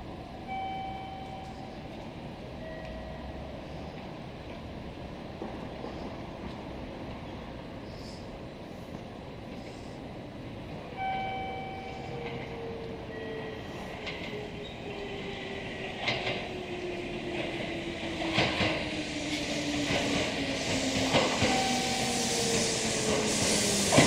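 Kintetsu Nagoya Line express train arriving and departing at platform 2 of Yatomi Station, a long rumble of rolling wheels and rail clatter with occasional squeals and tones, growing louder as it moves off.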